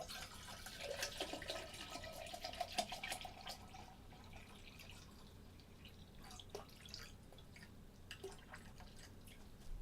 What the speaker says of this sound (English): Don't just pour the damn water.